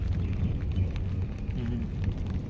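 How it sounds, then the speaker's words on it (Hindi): Steady rain patters on surfaces outdoors during a cold June spell in Murree, a soft constant hiss with faint drips and a low rumble underneath. "हाँ, ऊपर से बारिश।"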